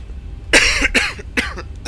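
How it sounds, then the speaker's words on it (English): A pilot in a 737 cockpit coughs a few times, several short, harsh bursts close to the microphone with brief pauses between them, and no speech. "All this coughing."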